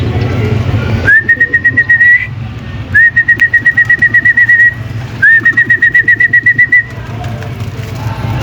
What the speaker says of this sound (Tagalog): kinakamusta ko lang yung mga ibon natin dito mga kalapatids